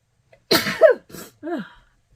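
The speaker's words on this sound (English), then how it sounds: "I sneeze." A single sharp sneeze bursts out close by, followed by a short breathy sound and a brief murmured voice.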